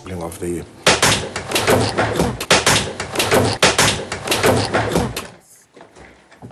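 A chair gives way beneath a man during a live TV interview, producing a sharp cracking clatter amid ongoing talk, followed by more clattering and commotion, with voices speaking throughout.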